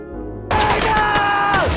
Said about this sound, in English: Gunfire echoed in confined spaces.